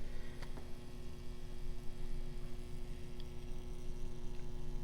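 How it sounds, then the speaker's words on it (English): A salvage-yard neon sign transformer hums, a steady low constant drone with a faint buzzing edge and a couple of tiny ticks, no voices. "Transformer's humming."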